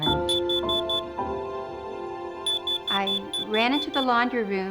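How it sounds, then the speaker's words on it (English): A home carbon monoxide alarm beeps in repeated short bursts, set off by a water heater leak. The beeping carries on steadily while a person speaks over it partway through. "our carbon monoxide monitor was going off"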